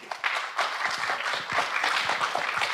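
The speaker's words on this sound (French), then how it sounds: "on peut l'applaudir" Audience applause fills the room for a presenter after a retrospective on Osamu Tezuka's works at a festival event, a dense, steady patter of many hands clapping at moderate distance with no speech over it.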